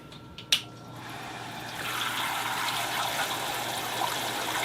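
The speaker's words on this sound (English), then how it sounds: "so we've got water spraying out in all directions, to the side and down the middle" Water sprays from a homebrew sparge arm in a recirculating brew-in-a-bag setup, a faint steady hiss and patter that swells after a short click and continues evenly throughout.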